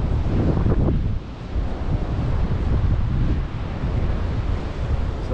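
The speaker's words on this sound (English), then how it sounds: "It was a little blustery, but it is a lot of wind chill in that wind." Strong, steady wind gusting across an open beach in cold, blustery conditions, buffeting the microphone with a loud continuous roar that dips briefly and then rises again.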